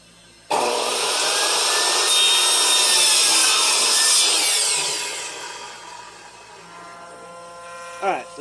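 A handsaw cuts through wood in quick, close, steady rasping strokes to trim a piece, then the sawing fades and a voice briefly speaks at the end.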